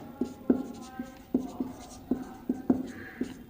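Chalk or a marker strikes and scrapes on a classroom board in a series of sharp taps and short strokes as math figures are written, with faint room noise behind.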